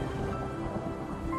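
A steady, dense roar of storm noise with rushing wind and rain-like hiss fills the whole stretch, loud and unbroken, as a sound effect for a sudden strong windstorm in a desolate place.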